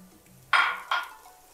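Butter hitting a hot saucepan, two short bursts of hissing sizzle, close and bright, each fading quickly, over a quiet kitchen background.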